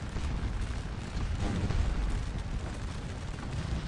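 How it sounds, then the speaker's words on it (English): Massed musket volleys and artillery fire pour onto the Imperial Guard in the Scourge of War Waterloo game, a dense continuous rumble of overlapping shots and booms at steady, fairly loud level without any talk. "we are now opening fire on the Imperial Guard"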